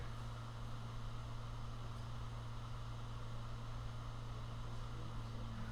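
A classroom projector runs continuously, a faint steady hum with a low tonal drone over soft broadband hiss and no voices.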